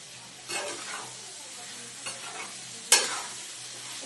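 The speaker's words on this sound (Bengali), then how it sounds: "ভালো করে একটুখানি ভেজে নিই, নরম নরম হোক।" Chilli chicken cooks in a frying pan: a soft, steady sizzle runs underneath while a spoon stirs and scrapes now and then, and a sharp metallic clink sounds partway through.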